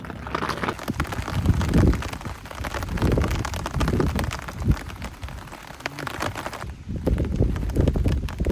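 Rain falls steadily outside a camping tent on a stormy summer night near a jungle, a dense hiss with low rumbling gusts of wind swelling and easing, no voices.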